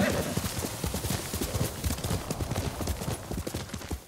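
Horse hooves clip-clop in a fast, steady gallop while riding in the video game Ghost of Tsushima Director's Cut, close and loud the whole way through.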